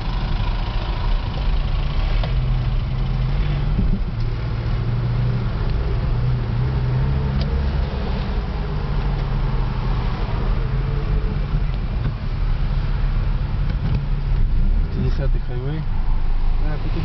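Steady engine drone of traffic on a Korean highway at 6 am, a continuous low rumble with mid-range road noise throughout, with a voice talking over it.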